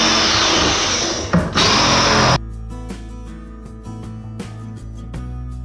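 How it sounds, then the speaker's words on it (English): A small portable reciprocating saw cuts through wood in a drywall niche with a loud buzzing roar, a brief hitch midway, then stops abruptly, leaving lighter rattles and taps. "I got this little portable sawzall. I'm gonna cut the wood out."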